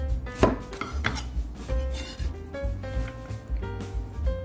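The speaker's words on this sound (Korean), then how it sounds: "다음은 양파를 얇게 채 썰어주세요." An onion is thinly sliced with a knife on a cutting board, heard as a quick run of close knife taps and thuds with faint clinking kitchen sounds around them.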